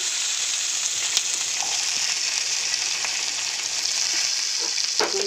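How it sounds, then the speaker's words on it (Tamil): Onions frying in a pan for capsicum gravy give a continuous close hiss and crackle, with a few soft stirring knocks and one sharper scrape near the end, no talking. "போட்டு வதக்கணும். ஒரு 2 நிமிஷம் வதக்கணும்."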